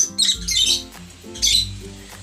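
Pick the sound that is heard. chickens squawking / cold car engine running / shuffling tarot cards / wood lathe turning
chickens squawking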